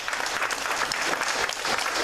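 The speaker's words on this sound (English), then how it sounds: "You deserve another round of applause." An audience at a village board meeting breaks into loud, dense clapping that stays close and sustained throughout.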